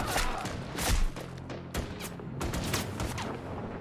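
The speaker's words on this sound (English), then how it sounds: "Firing squad." A firing squad shoots in a samurai TV drama, a burst of sharp, loud gunshot cracks in an irregular volley with short pauses between shots, followed by a few more reports.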